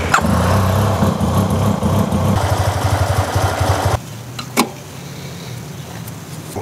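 A neglected Yamaha TMax scooter engine that has just been revived runs roughly and loudly up close, with uneven chugging pulses, then drops to a quieter, sputtering idle partway through.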